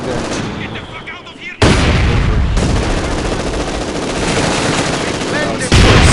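Machine gun fire in Company of Heroes 2: sustained, loud, rapid bursts of automatic gunfire with booming impacts mixed in, cutting off briefly and then resuming at full intensity, with battlefield voices faintly under the din.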